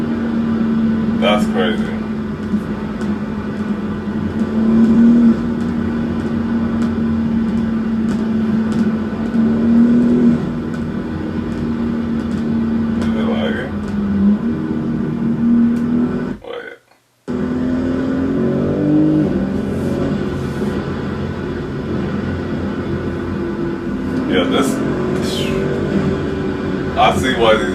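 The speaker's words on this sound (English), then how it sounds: "Cause those turbos just winding up" BMW M4 G82 with its twin-turbo engine pulling hard at night, a steady droning engine tone rising and winding up in bursts beneath frequent excited talk from inside the cabin.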